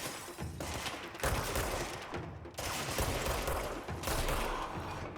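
Sustained bursts of rapid gunfire from shooting enemies in the video game Control, loud and dense, pausing briefly between volleys with thuds and booms mixed in, no talk over it.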